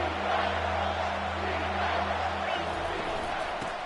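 Steady, loud stadium crowd roar from a College Football 25 game, a continuous wash of cheering that fades slightly near the end, with no distinct voices over it.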